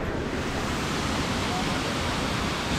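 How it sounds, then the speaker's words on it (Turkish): A waterfall in Georgia pours with a loud, constant broadband rush that fills the whole stretch evenly, with no break or distinct splashes. "Şelale şuradan akıyor."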